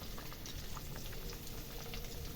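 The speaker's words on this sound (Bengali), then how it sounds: "ঝোলটা আগে ফুটুক" Fish curry broth bubbles in a pot with a dense, continuous simmering patter, fairly quiet and steady throughout, with no voices.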